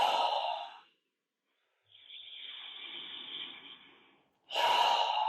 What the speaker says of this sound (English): a minute and a half is a good amount of time, or 10 really good deep breaths